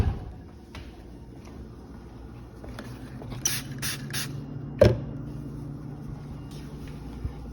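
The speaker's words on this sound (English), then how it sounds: "We use this stainless steel cleaner, and we just spray that onto a cloth." Stainless steel cleaner sprayed onto a cloth during fridge and freezer maintenance, three quick hissing spray bursts in a row at close range, followed by a sharper handling knock, over low room noise.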